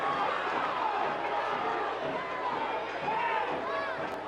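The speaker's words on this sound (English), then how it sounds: "Listen to this crowd roar at Toyota Field." A soccer crowd at Toyota Field roars during a San Antonio FC vs OKC Energy FC playoff match, a loud, steady wash of noise with a voice speaking over it throughout.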